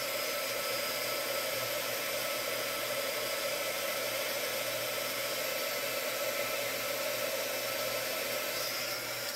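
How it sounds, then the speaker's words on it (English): An embossing heat gun blows steadily and close, a constant broadband hiss with a low motor hum that does not let up. "Now let me see if I can set it with my embossing gun"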